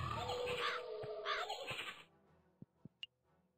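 Crows caw in a video game: a few harsh, nasal caws in the first two seconds, followed by three short sharp clicks against quiet background.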